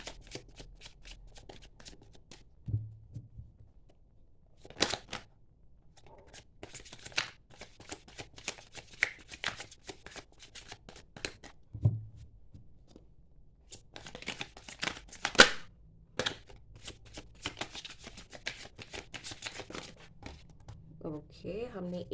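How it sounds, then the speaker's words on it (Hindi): Tarot cards are shuffled in repeated crisp riffling bursts, near and fairly quiet, with pauses between handfuls while someone talks softly over and between the shuffles. "एक कार्ड और लेंगे."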